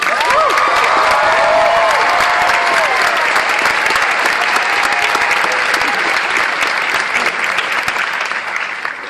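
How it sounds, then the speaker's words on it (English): A large audience at a movie premiere at Regency Westwood Village bursts into dense, loud sustained applause with some cheering, filling the room before slowly tapering off toward the end. "you cannot start this movie without a big round of applause for David Toohey"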